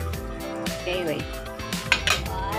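A utensil stirs dried shrimp paste (alamang) in a pan, with scraping and clinks of metal against the pan, close by over a low steady background hum.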